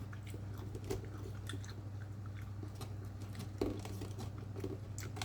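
A person chews food eaten with rice, making soft, close bites and crunches over a low steady hum, with no speech.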